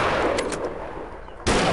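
A single loud gunshot goes off near the end in the Deer Drive hunting game. It cuts sharply through a rushing background wash.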